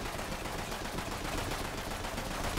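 Dense, continuous automatic gunfire from the shooter video game Borderlands 3, a steady rapid rattle of shots filling the whole stretch at an even level with no talk over it.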